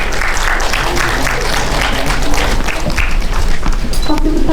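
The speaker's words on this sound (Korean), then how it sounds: "큰 박수 부탁드립니다." A theatre audience claps steadily as guests, a director and actors, are welcomed onto the stage at an indie film talk event, the applause staying even and close with faint voices and noise mixed in.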